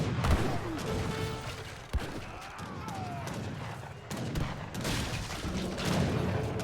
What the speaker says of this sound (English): Duke's cannons are doing good work.